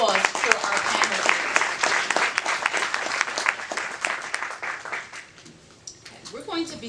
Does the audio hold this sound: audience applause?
yes